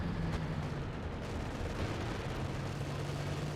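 Calliope rocket artillery firing in the Company of Heroes 2 video game on the La Glieze map, a dense rumbling barrage of blasts and explosions, loud and continuous, with a brief sharp burst near the start.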